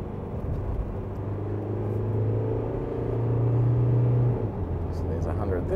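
A 2023 Isuzu MU-X seven-seat SUV accelerating hard toward 100 km/h, its steady engine drone and road rumble rising in pitch and loudness, heard from inside the cabin for several seconds.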